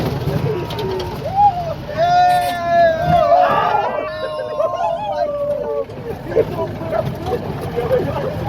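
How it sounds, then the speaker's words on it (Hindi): A group of people in the Thar Desert shouting and making lots of noise, loud overlapping calls and whoops over a busy outdoor background, with talking nearby. "पीछे से ये लोग सब खूब शोर कर रहे हैं।"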